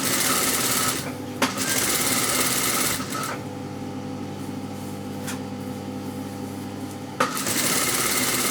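A sewing machine stitches over the selvage edge of fabric for a tulip project, running in a steady continuous whir with a couple of brief pauses and clicks, close and fairly loud with no talk.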